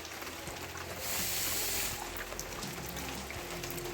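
Rain falling steadily outside a home, a broad, even hiss of drops with a louder swell midway and faint patters on surfaces, no talking.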